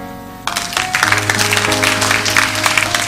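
Students at a graduation ceremony break into sudden, fairly loud applause that holds steady over a low sustained music tone.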